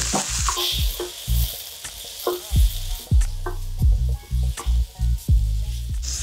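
Tomatoes and garlic sizzle in a pan while a utensil scrapes and stirs, giving a steady hiss broken by a series of repeated knocks and clatters, close by and without speech.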